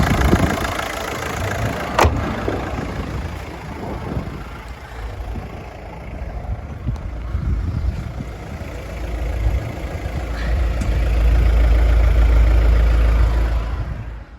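A 2009 Volkswagen Golf with a 1.9 TDI diesel engine idles nearby with a low, even rumble, broken by a few clicks and handling noises, growing fuller toward the end.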